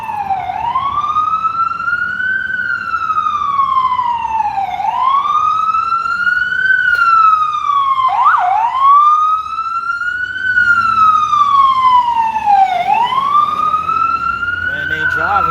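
An emergency vehicle siren wails loud and close in a steady rising-and-falling cycle, repeating about four times as the vehicle passes on a city street, with light traffic noise underneath.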